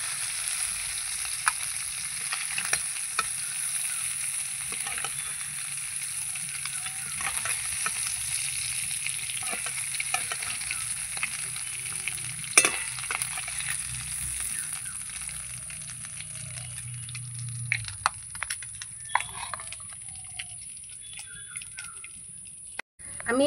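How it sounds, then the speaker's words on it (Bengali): Prawns sizzling in a pan of oil and being stirred, a steady close crackling hiss with scattered scraping clicks of a spatula that fade toward the end. "আমি এই চিংড়ি মাছ ভেজেছি,"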